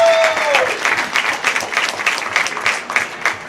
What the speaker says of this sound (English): Give them all a nice round of applause, please